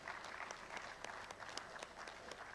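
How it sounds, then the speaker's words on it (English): Audience applause at a memorial engineering lecture in Abuja, a moderately loud spread of clapping hands with a few sharper claps standing out, steady throughout. "Please, a round of applause for him."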